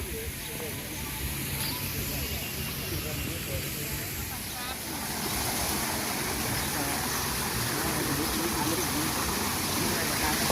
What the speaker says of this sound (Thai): ตรงน้ำตกเล็กนี่ค่ะ